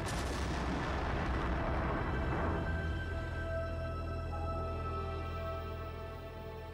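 A tank is blown up with an explosive charge: one heavy blast booms loud and close, then rumbles and rolls away over several seconds into a fading roar.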